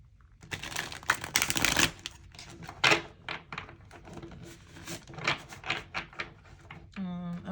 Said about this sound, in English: I'm going to shuffle it one more time, but this time make it more like satisfying